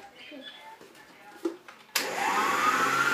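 An electric mixer beating cupcake batter with milk just added switches on abruptly after soft handling noises, then runs as a loud, steady whirring drone whose pitch climbs slightly as it spins up.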